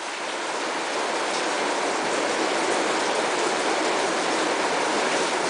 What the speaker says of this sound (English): you can hear the rain on the roof